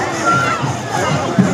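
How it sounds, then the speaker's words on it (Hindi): Crowd noise in a busy village market, a steady murmur of many voices with some children shouting, close and continuous. "बहुत भीड़ है"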